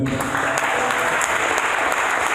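A church congregation applauds for the Lord in a loud, continuous roll of clapping, with some individual claps standing out and faint voices underneath.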